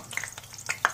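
Green chillies crackle and spit in hot oil for aloo keema masala, a short burst of sharp pops and hissing sizzle at close range.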